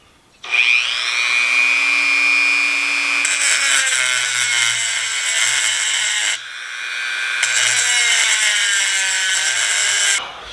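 A Dremel rotary tool grinds on the metal of a USGI M7 bayonet, giving a high, steady whine close by in two long passes with a short pause between them.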